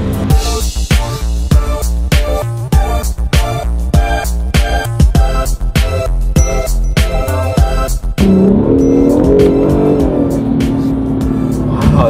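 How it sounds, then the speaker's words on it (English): Acura NSX with a V6 turbo hybrid engine accelerating hard, loud and close, with rhythmic pulsing revs for about eight seconds, then a turbo blow-off release and a sustained whine as the engine settles. "Oh, you hear the turbo? Dude, it sounds like an old school Supra blow valve."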